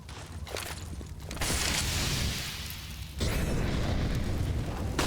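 A thrown grenade going off during a competitive video game match: two heavy, roaring booms in quick succession, each swelling into a loud, sustained rumble that fills the mix.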